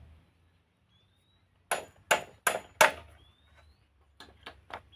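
Hammer work pulling nails out of salvaged wooden boards, heard as a burst of four sharp, loud knocks followed by a quieter cluster of three taps, with near-silence in between.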